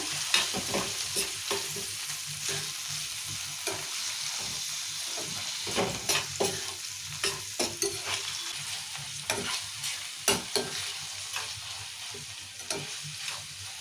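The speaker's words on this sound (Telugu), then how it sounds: "ఇప్పుడు పప్పు ఉప్పు ఇక అల్లిగడ్డ వేసాం కదా ఒకసారి కలుపుకుందాం ఇట్లా" Ginger, salt and turmeric being stirred into a tomato-onion mixture frying for an ivy gourd and split moong dal curry: constant sizzle broken by a regular series of spoon scrapes and knocks against the pan.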